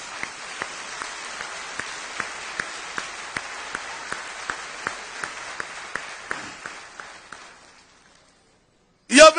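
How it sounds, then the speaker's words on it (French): A church congregation claps together in a steady unified rhythm, roughly two claps per second, gradually thinning and fading out before a brief loud burst at the very end. "Acclamez le Seigneur. Palma para Jesus"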